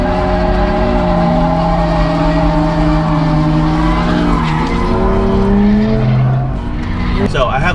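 A rear-wheel-drive BMW 128i drifting, its tires squealing loudly and continuously over a steady engine drone, with pitch sliding up and down as the car slides; no talk over it.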